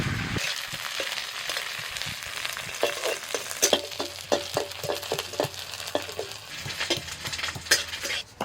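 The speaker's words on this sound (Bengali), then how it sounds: "কড়াইতে তেল দিয়েছি তেলের মধ্যে প্রথমে নিম পাতা দিয়ে দিচ্ছি" Neem leaves sizzle and crackle in hot oil in a wok, with a steady frying hiss broken by repeated sharp pops and stirring clicks, close and moderately loud, with no talk.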